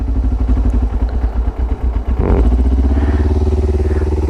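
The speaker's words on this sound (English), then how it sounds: "you can like slowly ease off the choke. Just try and keep it down around like, yeah, probably 1500 RPM" A cold motorcycle engine idles on choke at around 1500 RPM, giving a steady, close, loud low rumble with a brief rise in revs midway.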